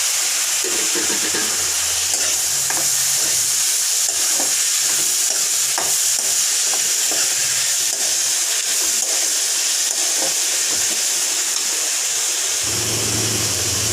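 Tomatoes and green chillies fry in a pan with a loud, steady sizzle, with occasional stirring scrapes running throughout and no talk.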